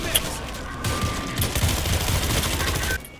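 Sustained automatic gunfire from a World War Z co-op game session rattles loudly in a steady rapid stream for about three seconds, then stops abruptly.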